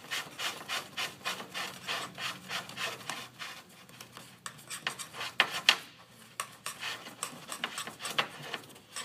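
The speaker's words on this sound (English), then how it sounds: "Scrape all of that off the top edge of the can here." Scraping residue off the top edge of a can: rhythmic raspy strokes repeat steadily, close but fairly quiet, with no voices.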